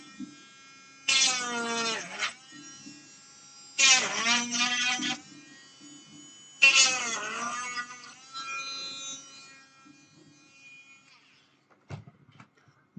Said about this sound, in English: I'll just Dremel that out a little bit